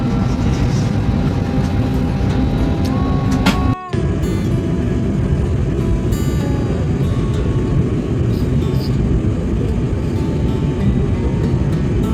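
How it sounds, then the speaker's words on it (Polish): Steady, loud broadband drone of an airplane cabin as passengers travel, continuous throughout with one brief dropout partway through. "zaraz wchodzimy do samolotu"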